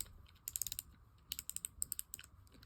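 A spinning fishing reel's drag knob is turned, giving bursts of fine rapid clicking in two or three runs, close and light, with no talking.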